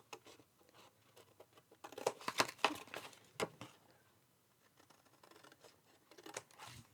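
Scissors cutting decorative paper panels for a craft exploding box, a few quiet snips and paper rustles with a brief cluster of sharper cuts midway, close and alone.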